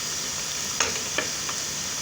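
Onions frying in a pan and browned, giving a steady bright sizzle throughout, with a few soft stirring scrapes breaking through the hiss.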